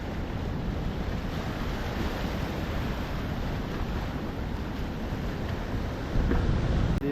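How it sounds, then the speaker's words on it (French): Heavy surf roars continuously in a raging sea with huge swells, wind buffeting the microphone, a dense, loud wash of crashing water that swells toward the end. "Des vagues énormes,"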